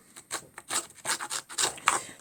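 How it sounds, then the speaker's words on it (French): A handheld paper distresser tool scrapes and rubs across card paper to age its edges, in a series of close, quick raspy strokes of uneven rhythm. "Moi je vais utiliser cette machine-ci là, Distresseur, je crois que ça s'appelle."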